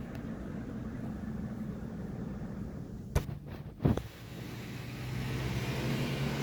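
A car drives on a highway into town, its interior road rumble steady and moderate, broken around the middle by a couple of short thumps or knocks before the drone resumes and swells slightly.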